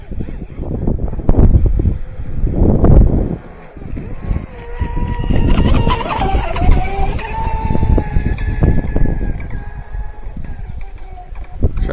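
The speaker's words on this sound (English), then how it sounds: "Wind picked up here a little bit" Wind gusts outdoors at the water's edge during a Pro Boat Sonic Wake 3S RC boat run buffet the microphone with low, rumbling bursts, mixed with a faint whining motor tone and some background voices.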